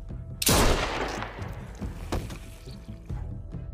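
A single sharp, loud gunshot cracks out in The Walking Dead: New Frontier game, followed by a decaying echo and a few softer thuds and rustles afterward, with no talking.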